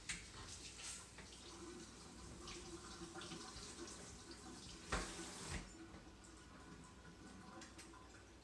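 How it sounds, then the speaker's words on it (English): Tap water running into a kitchen sink while broccoli is rinsed, a soft steady splashing hiss with a couple of brief louder splashes midway; faint and close, with no talking. "The first thing that you're going to want to do is wash the broccoli."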